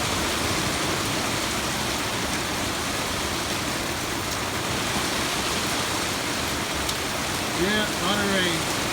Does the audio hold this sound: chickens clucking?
no